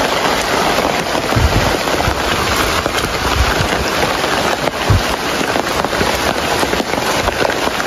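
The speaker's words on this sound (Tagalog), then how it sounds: "Nabukan kami ng ulan." Heavy rain pours steadily, a dense continuous hiss with scattered sharper patters and drops hitting a surface nearby.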